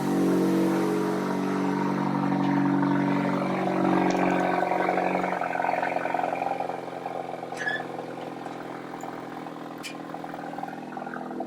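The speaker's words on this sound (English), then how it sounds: "God, that car sounds good." A Ford Focus ST engine runs with a steady mid-pitched drone, loud at first then easing down to a quieter idle-like hum partway through.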